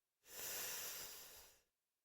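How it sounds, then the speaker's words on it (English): One slow, deep inhale lasts about a second and a half, a soft airy rush heard close and alone in quiet surroundings. "let's just inhale and exhale."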